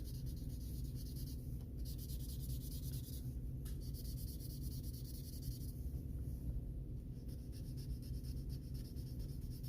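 Quiet, soft scratchy strokes of a Colorya alcohol marker across paper, in short repeated bursts over a faint steady background hum.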